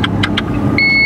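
A car engine idles steadily while the car parks, with three short beeps early on and then a sustained electronic tone toward the end.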